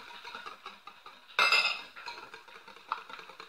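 Brioche ingredients are stirred in a bowl, soft repeated clinks and scrapes of a utensil with one louder clattering burst, close and fairly quiet.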